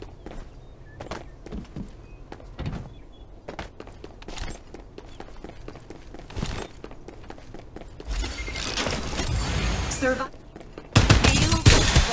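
Gunfire in the Farlight 84 shooter game, with scattered sharp shots and clatter building into dense, loud bursts of automatic fire near the end, mixed with other game effects.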